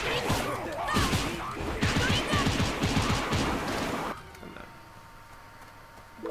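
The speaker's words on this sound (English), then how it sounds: "if you keep tapping X, you'll do the Gatling at the end" Rapid flurry of punch impacts from a Gatling attack in One Piece: World Seeker, a dense rattling barrage of hits with game effects that cuts off abruptly, leaving quieter background ambience.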